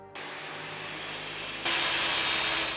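Woodworking machines such as a sawmill and a wood planer run in a shipyard carpentry workshop, giving a continuous whirring drone that grows suddenly louder and brighter partway through.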